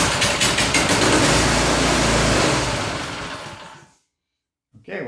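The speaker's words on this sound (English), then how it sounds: "I've got a drill with a 19mm that I'm just going to turn the engine over with" A Poulan snowblower engine with a kill switch wiring fault is spun over by a drill, giving a loud, dense, rapid mechanical clatter for about four seconds that cuts off abruptly, followed by silence and a brief restart of noise.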